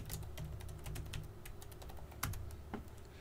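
Rapid, irregular keystrokes on a computer keyboard as an admin login name and password are entered, steady clicking close by over a low background hum, with a couple of sharper key hits.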